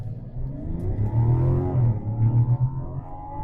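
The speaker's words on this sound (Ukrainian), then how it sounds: "мотор просто реве" A Mazda CX-60 engine roars and rises in pitch under hard kickdown acceleration, loud and close, with steady revving growl throughout.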